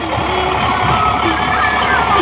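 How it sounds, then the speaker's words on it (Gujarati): A tractor engine runs with a cutter attachment working in a farm field, a steady, loud mechanical drone that holds evenly throughout, close to the listener. "ટ્રેક્ટર હાંકી રહ્યો છે, કટર ચાલુ છે"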